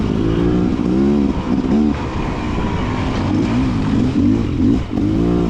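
A Beta motorcycle with a counterbalanced engine revs nearby, its loud throaty exhaust rising and falling in repeated throttle blips at a demo day.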